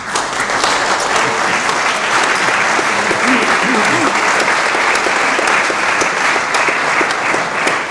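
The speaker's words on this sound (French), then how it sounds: "Pour vos applaudissements, ça me touche beaucoup." A congregation at a church cantata service in Malagnou applauds a retirement with sustained, dense clapping that fills the room at an even level, with faint voices underneath.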